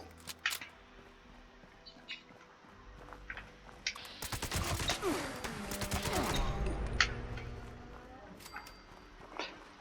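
Assault rifle fire in Fallout 76 sounds as a rapid burst of gunshots in the middle of the stretch, fairly faint, with scattered game effects before and after.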